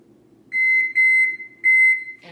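An upper kitchen oven's timer beeps while being set, giving three loud, high electronic tones of uneven length over a faint background hum.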